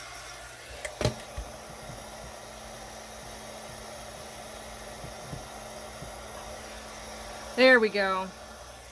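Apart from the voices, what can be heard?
heat tool heating embossed stamping foam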